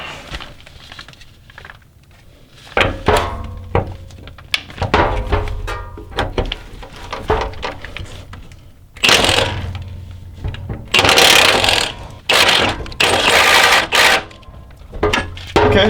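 An impact wrench loosening a nut on the rear end of a Lexus LX470, with loud, close, repeated rattling bursts of hammering separated by short pauses, alongside clanks of tools against metal.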